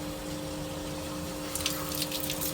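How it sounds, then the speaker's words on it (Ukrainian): Water gushes from a turned-on tap in a rented home, a steady flow under a faint hum, with sharper splashing spurts picking up in the second half. "коли ти вмикаєш тут воду, подивіться, як вона плющить"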